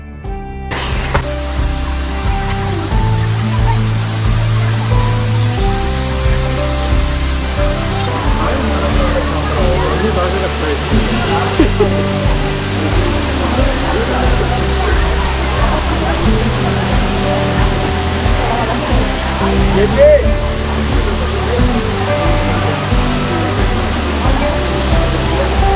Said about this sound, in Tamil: இடம் கிளியனூர் வாட்டர் ஃபால்ஸ்.